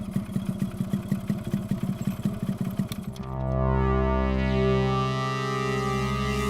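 Motorcycle engine running close by, a fast pulsing putter for a few seconds that then changes to a smoother, louder sustained drone with a processed, effect-laden tone, with no voices over it.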